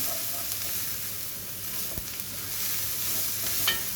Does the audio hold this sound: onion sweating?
yes